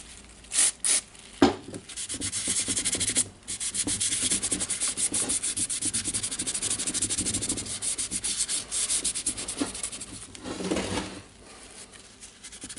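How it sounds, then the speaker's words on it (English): A cloth rubs marker off the body of a Makita DHR243 rotary hammer using adhesive residue remover, a close, steady scrubbing rasp that follows a few short taps at the start and fades near the end. "I will try to clean them with the adhesive residue remover."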